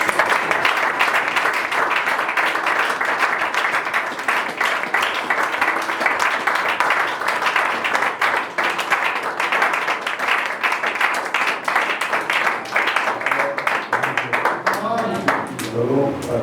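A congregation at a church worship service applauds, with dense, sustained clapping that carries on throughout and voices mixed in.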